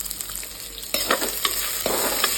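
Garlic, whole spices and onion fry in homemade ghee in a pan, with a steady sizzle and stirring scrapes that swell into a louder, crackling hiss partway through as more goes in. No one speaks.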